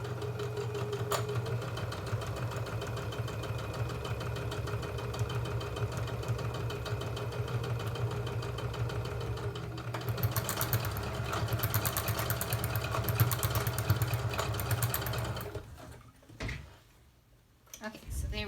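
A sewing machine runs steadily, stitching up the end of a fabric face mask with a continuous mechanical whir, speeding up briefly before stopping near the end.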